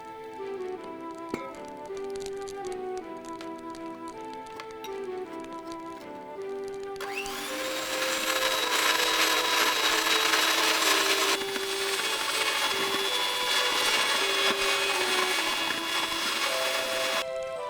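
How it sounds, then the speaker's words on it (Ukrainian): Eggs being beaten with sugar and salt for a carrot cake batter, first a softer steady mechanical whir, then a louder, brighter electric mixer drone filling the rest, continuous and close with no talk. "Приготування тіста для кексу починаємо із звичного збивання яєць з цукром та сіллю до пухкої білої маси."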